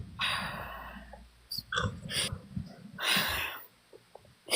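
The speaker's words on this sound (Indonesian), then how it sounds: "Tahan nafas, hembuskan lagi." Slow breaths are let out after being held during a guided breathing exercise, a few airy exhale bursts with short gaps between them, close and moderately loud.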